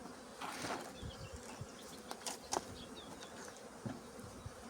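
Honeybee drones buzz faintly and continuously nearby, with small clicks and bumps scattered through the low hum.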